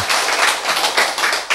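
Audience applause at a Korean lecture on healing: dense, steady clapping from a room full of people, fairly close and loud throughout, with a brief swell near the end and no voices.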